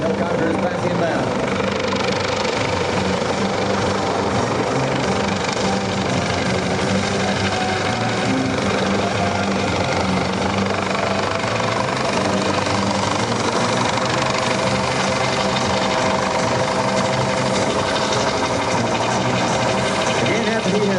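A Coast Guard search and rescue helicopter flies inbound during an air show demonstration, its dense rotor and turbine noise loud and constant for the whole stretch, with a voice talking over it.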